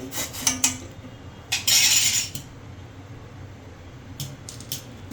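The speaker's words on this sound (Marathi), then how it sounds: "त्यासाठी मी चमचा वापरते, व्यवस्थित ढवळण्यासाठी." A metal spoon clinks and scrapes against a pot of tea water on the stove, with a few sharp rattling taps and a longer scraping stir over a low steady hum.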